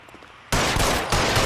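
Gunfire in the L.A. Noire police shootout, a sudden loud burst of rapid shots cutting in after near-silence and running on in dense, sustained volleys.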